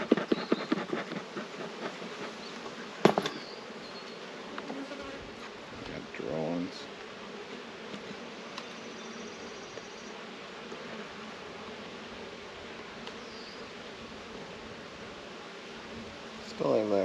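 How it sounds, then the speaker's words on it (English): A single bee buzzing close around a beekeeper working an outyard hive, a thin drone that comes and goes over handling clatter and knocks, with a couple of louder bumps. "Still have that one bee bugging me."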